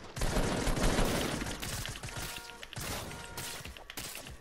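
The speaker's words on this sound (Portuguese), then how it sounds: "Estão atirando em mim." Bursts of rapid gunfire in a video game, a fast fusillade of shots followed by scattered thuds and clatter at moderate loudness with no speech.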